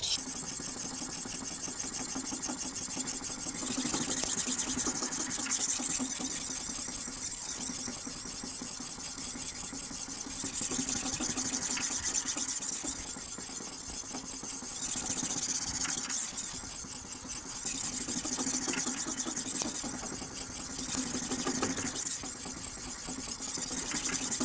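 The tip of a German kitchen knife is reshaped on a whetstone with a continuous, gritty scraping of steel on stone. Steady back-and-forth strokes shift in intensity every few seconds, without any talking.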